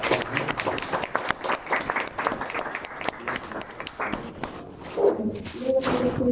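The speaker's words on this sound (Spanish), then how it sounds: "Aplausos, por favor." An audience at an International Women's Day lecture claps in a dense, lively burst of applause that carries on for several seconds, with a voice rising briefly near the end.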